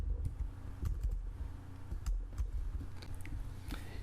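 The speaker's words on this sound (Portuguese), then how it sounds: "na caixa de entrada vamos digitar" Typing on a computer keyboard at a steady, close pace, with clustered key clicks entering a command into GeoGebra geometry software; no voice.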